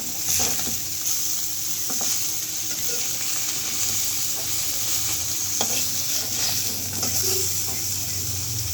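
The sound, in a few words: fish frying in a pan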